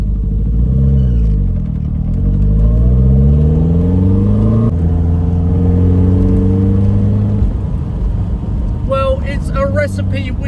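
A 1971 Lotus Elan Sprint drophead coupe with its roof down and a twin-cam four-cylinder engine revs hard up through the gears, its engine note climbing, dropping at a shift, then climbing again, loud and close throughout.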